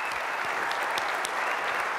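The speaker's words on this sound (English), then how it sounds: "let's give our winners one more round of applause" Sustained, dense applause from an audience at the SolidWorks World 2013 Model Mania competition honoring the winners, a steady wash of many hands clapping close and loud throughout with no break.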